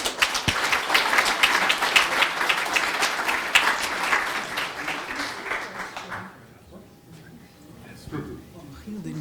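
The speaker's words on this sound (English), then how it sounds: "And another round of applause for Viv." Audience applause at a digital preservation conference bake-off, dense clapping for about six seconds that then drops away abruptly, followed by quieter background talk.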